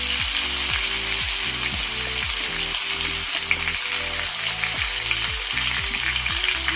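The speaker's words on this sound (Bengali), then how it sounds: "পেঁয়াজগুলো লাল লাল করে ভাজা হোক।" Onions fry in a pan for chicken kosha, a loud, continuous hissing sizzle that carries steadily throughout over a low, stepping hum, with no one speaking.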